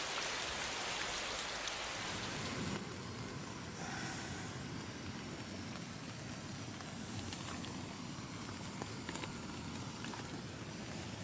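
Steady rain drums on the fabric of a Ferrino Maverick tent from inside, a dense continuous patter with no voices, heavier and fuller after the first few seconds.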